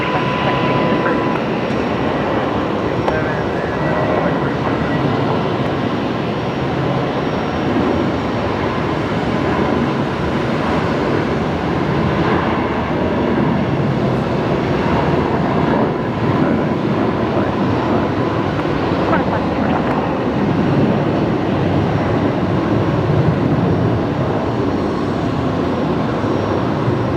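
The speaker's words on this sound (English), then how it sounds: "Right, we got Jetstar 825 rolling now, heading down to Sydney." Jetstar Boeing 737 rolling for takeoff at Brisbane Airport, a steady broadband engine roar that holds loud and continuous throughout with no gaps or breaks.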